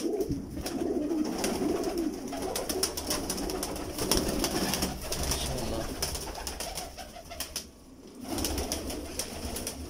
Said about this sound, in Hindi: सर जी एक ये कबूतर है जो सामने